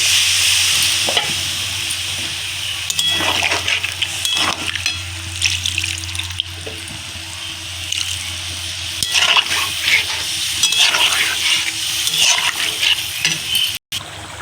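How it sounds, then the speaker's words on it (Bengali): Rohu fish curry broth with cauliflower and potato, just topped up with water and boiling in a pot: loud, continuous bubbling and watery churning throughout, with a brief dropout near the end. "একদম জল দিয়ে দিলাম আমি, ঝোলটা কিন্তু বেশ সুন্দর টকবক ফুটে গেছে"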